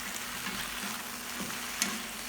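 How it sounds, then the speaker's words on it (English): Greens stir-fry without water in a hot pan and are tossed with a spatula, giving a steady, even sizzle with a faint scrape partway through. "Use a spatula to toss everything quickly and evenly."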